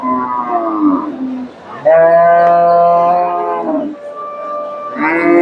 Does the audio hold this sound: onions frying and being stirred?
no